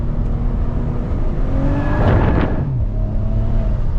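Stock Maserati Ghibli S engine, fitted only with aftermarket rims, rising in a revving surge with quick blips as it downshifts into a corner, loud and close over a steady engine drone.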